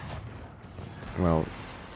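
A cannon volley in a fort-battle video game lands as one short, heavy boom about midway, rising above a quieter bed of game sound and faint voice.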